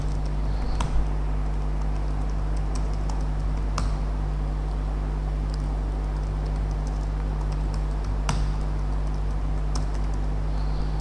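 Soft, scattered keystrokes on a computer keyboard while names are entered in Excel, irregular taps and occasional sharper clicks over a constant low electrical hum, no voice.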